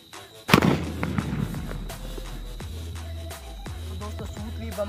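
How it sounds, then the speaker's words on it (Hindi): A single loud sutli bomb, a twine-wrapped Diwali firecracker, goes off close by, followed by crackling debris and a lingering hiss, then quieter background rumble. "सूतली बम काफी धमाकेदार था यहाँ पे"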